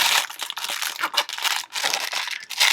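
Paper being twisted while crafting a blooming blue coaster, a close, continuous crinkling and crumpling with short rustling pulses and no talking.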